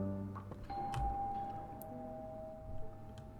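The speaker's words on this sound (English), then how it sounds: "Was that a doorbell? Is someone at the front door?" A doorbell chimes once inside the video game The Tartarus Key, a clear bright tone that rings out and lingers faintly over a quiet, low background.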